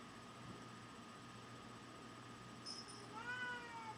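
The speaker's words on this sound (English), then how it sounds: "And the cat is screaming." A cat meows and cries out near the end, a short rising wail over steady room hum from a fan or air conditioning, fairly faint and with no talk.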